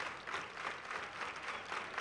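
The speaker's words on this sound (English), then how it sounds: "Crowd getting behind Bowker" Crowd at a minor-league baseball stadium applauding and cheering steadily during a two-out, full-count at-bat in a Governor's Cup Finals game, a dense, continuous wash of clapping with no voices above it.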